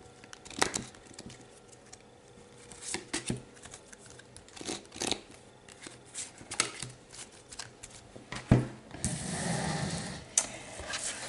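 Tarot cards are shuffled and drawn on a table. Close, crisp flicks and snaps come at irregular intervals, ending in a longer riffling shuffle.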